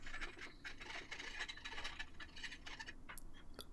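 Continuous close scratching and rasping as a file works over welded aluminium edges, cleaning up and bevelling the metal in quick repeated strokes, with no voices.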